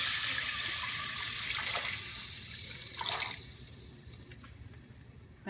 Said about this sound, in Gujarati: જરાક હલાવી અને પાણી નાખી દેવાનું.